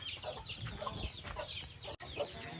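Aseel fighting chickens on a farm near Hosur, Tamil Nadu, clucking and calling steadily at close range, a busy layered flock chatter with no talk.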